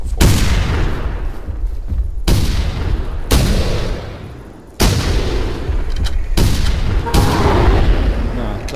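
Loud booming gunshots in the video game theHunter: Primal fire in heavy bursts separated by brief pauses, with echoing tails.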